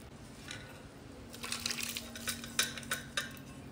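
A spoon stirs a mixture in a pot, producing faint scraping and a series of light metallic clinks that grow more frequent toward the end, with no voices.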